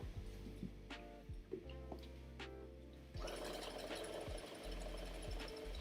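Sewing machine stitching zigzag-cut fabric bunting down onto ribbon, a steady close mechanical whir that runs the whole time and grows louder and busier partway through.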